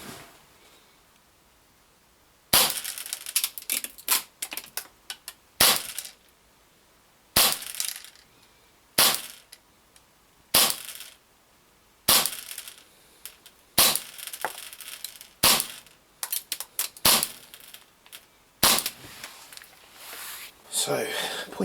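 An ARMY Custom 5.1 pistol fitted with a Costa compensator fires at a target on an outdoor range: a string of sharp, loud shots in quick strings and pairs, with brief pauses and faint handling sounds between them.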